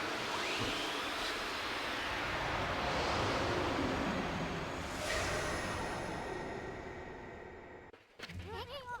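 A strong gust of divine wind sweeps through in the Ōkami HD video game, a loud, broad whooshing rush that swells and lingers for several seconds, then cuts off abruptly and gives way to brief game sounds.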